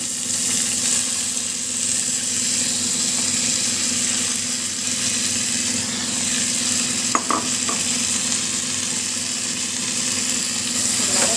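Mudakathan leaves sautéing in a hot pan, a continuous loud sizzle and frying hiss with occasional stirring scrapes, no voices.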